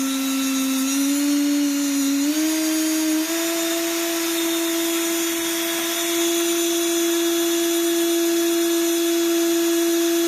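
A small electric motor driven at 24 volts spins at about 20,000 RPM, giving a steady, loud whine with a clear tone that steps up in pitch early on, then holds even and alone.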